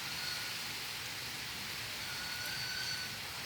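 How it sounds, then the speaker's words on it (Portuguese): Heavy rain falls in Ceará, Brazil, a constant, even wash of hiss with no voices and no clear breaks over the few seconds. "Que Deus está mandando chuva."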